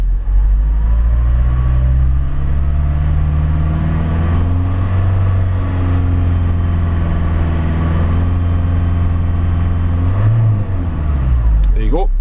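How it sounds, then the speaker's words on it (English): Ford Transit 350 Luton van engine held at a steady raised rev, a loud, continuous close-up drone with slight pitch shifts, dropping back near the end. "I'll try and take it up onto a steady rev"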